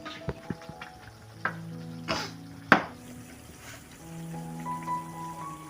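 Melinjo skin vegetables stir-fried in a pan, a steady soft sizzle broken by a few sharp clinks of a utensil against the pan, with no talking.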